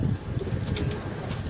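Pigeons cooing softly in a Lahore pigeon loft, a low murmuring coo that keeps going steadily with faint rustling behind it.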